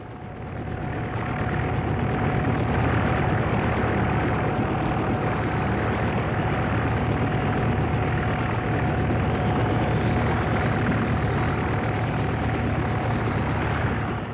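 An RAF helicopter drones steadily overhead during a 1963 cold-weather livestock rescue, a continuous loud rotor and engine roar with no pauses throughout.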